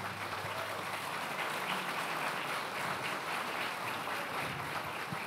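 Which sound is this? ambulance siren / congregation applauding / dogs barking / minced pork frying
congregation applauding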